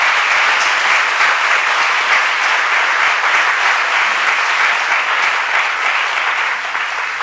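A large seated audience at a talk on mental health and the megacity applauds steadily, dense even clapping holding at full strength throughout with no voices over it.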